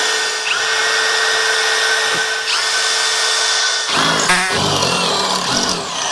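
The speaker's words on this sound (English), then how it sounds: "So I have to drill a hole here so our body bolt can go through" Power drill boring a hole through a steel floor brace on a 1955 Chevy truck, a loud, close, steady whine that wavers in pitch, then bogs and grinds as the bit bites near the end.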